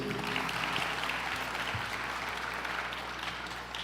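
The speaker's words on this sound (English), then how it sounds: "Let's give them another round of applause" Sustained audience applause at a university new student induction ceremony for the class of 2026, a dense steady wash of many hands clapping that holds even throughout, with a low hum underneath.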